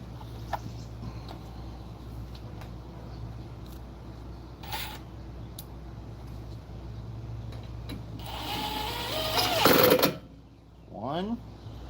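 Screws driven back in with a powered driver during a brake pad and rotor change on a Kia Soul, a short whirring burst near the end over a steady background hum, with brief voices at times.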